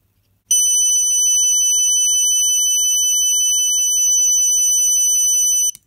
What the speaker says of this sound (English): we simply replace the color LED with the horn and turn on the slide switch